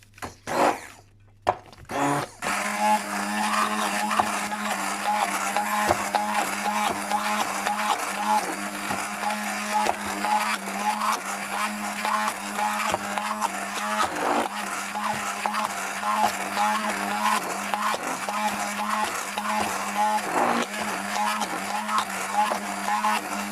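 A blender purees hard carrots, whirring steadily for a long stretch, its motor droning with slight fluctuations in pitch after a few brief starts.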